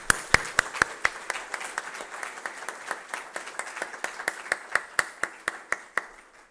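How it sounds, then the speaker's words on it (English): An audience at a cybersecurity skills conference applauds steadily, a dense run of sharp claps with some stronger individual hits, sustained for several seconds without talk. "he deserves from all of us a big applause"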